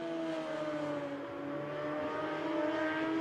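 Sidecar racing outfits, including the Mitchells of Mansfield Suzuki, scream past at the Sachenring, a steady high-revving engine drone held at moderate distance throughout.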